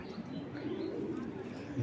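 Racing pigeons in a farm loft coo together in a dense, steady murmur that runs throughout, close and continuous with no clear breaks.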